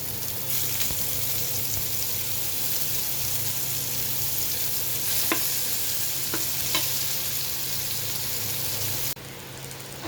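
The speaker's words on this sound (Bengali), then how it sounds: "করলা দিয়ে ভেজে নিচ্ছি একটু এইভাবে" Bitter gourd slices fry in oil in a pan, giving a steady, close sizzle that stays even throughout, with a few faint clicks of a utensil.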